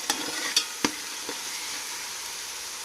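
Onion paste and green chillies sizzle steadily in a pan for a coriander mutton dish, with a few sharp scrapes and stirs of a utensil over the constant frying hiss.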